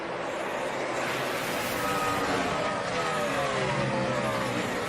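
Kevin Harvick's NASCAR race car pulling out of its pit stall at the 2011 Bank of America 500, a dense, steady engine roar mixed with loud track noise from other cars throughout.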